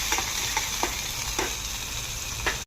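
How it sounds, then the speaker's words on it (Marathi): Chopped raw green tomato sautéing in hot oil for a Maharashtrian amti, a steady close sizzle with a few soft scraping stirs, no talking. "तो छान असा तेलामध्ये परतून घ्यायचा आहे"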